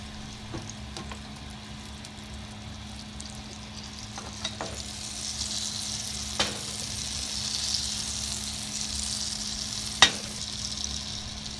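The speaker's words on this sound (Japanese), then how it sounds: "玉ねぎをバターで炒めていきます。" Home-grown onions frying in butter in a pan for chicken curry give a faint, steady sizzle, broken now and then by soft clicks and scrapes of stirring.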